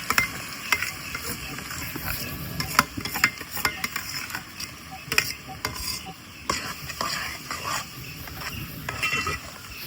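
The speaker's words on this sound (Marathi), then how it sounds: "जो टोमॅटो असा ना तो मी ह्या वाटपातच टाकतले आणि वाटाप ह्या मी फोडणीत टाकतले" Masala paste with tomato stirred into hot tempering oil for a Malvani fish curry, a steady sizzle under repeated scraping and stirring strokes, close and continuous.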